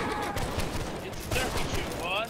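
Musket volley in the Holdfast video game: a sharp crackling burst of many shots fired together, followed by scattered reports, with voices talking over the gunfire.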